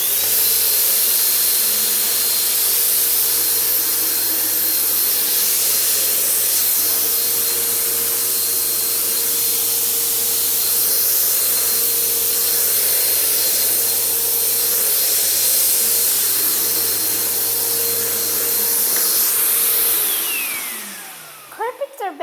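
A Bissell bagged vacuum cleaner roars loud and steady over a hard floor with a constant motor hum, then winds down and shuts off near the end.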